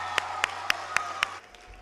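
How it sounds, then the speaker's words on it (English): An audience claps for school principal Alicia Conner, heard as five sharp, evenly spaced claps over a low steady hum before it drops away to quiet. "Alicia Conner, a big round of applause?"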